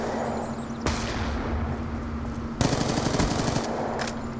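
Gunfire from the Black Ops 2 video game, with an MSMC submachine gun in a 1v1 search-and-destroy match: sustained rapid automatic bursts, loud and close, with a short pause between two strings of shots.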